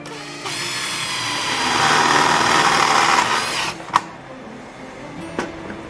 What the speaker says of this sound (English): You see how easy that is. Drill it in.